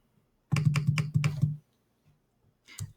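A computer keyboard spacebar is pressed in a quick burst of about six close, crisp clacks, then a single clack after a pause, with no talking.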